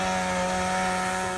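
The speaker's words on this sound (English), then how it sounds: "you can see rescue crews using chainsaws to cut through a frozen lake near Stroudsburg" Rescue crews running chainsaws to cut through frozen lake ice near Stroudsburg, a steady, close, droning engine whine holding at one pitch throughout, with no talk.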